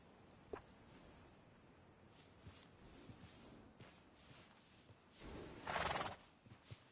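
A horse in the Red Dead Redemption 2 game whinnies in a faint, drawn-out call toward the end, with soft hoof clops and shuffling steps in the quiet scene before it.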